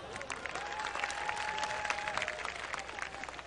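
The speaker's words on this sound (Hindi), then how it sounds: "मजा हो रहा हो तो मेरी श्रद्धांजलि में तालियां हो जाएं" Sustained audience applause at a comedy show, fairly dense clapping at moderate volume that continues evenly throughout.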